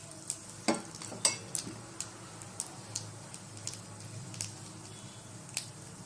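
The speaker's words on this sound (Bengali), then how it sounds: "তেল দেওয়ার পরে একটা শুকনো লঙ্কা আর কালো জিরে ফোড়ন দিচ্ছি" Faint hot oil sizzle with scattered sharp pops and crackles, spaced irregularly, as a dried red chilli and nigella seeds splutter in a pan.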